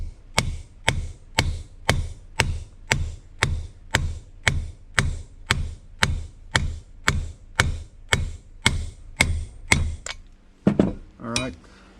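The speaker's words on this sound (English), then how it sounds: "Now we're going to go ahead and install our wheel bearing races in the hub." Wheel bearing races are driven into a Willys hub with about eighteen evenly spaced sharp metallic hammer blows, close and loud, followed by a short burst of speech.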